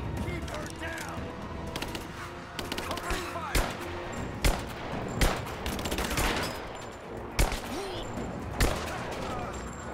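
Repeated gunfire in the video game Rise of the Tomb Raider crackles in sharp single shots and short bursts over a busy, noisy combat soundscape, with voices talking underneath at times.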